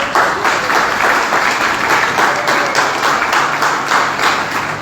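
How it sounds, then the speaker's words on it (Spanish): Audience applause at a gathering, a loud, sustained round of many hands clapping close by, steady throughout with no speech over it. "Vamos a dar un aplauso al Espíritu Santo."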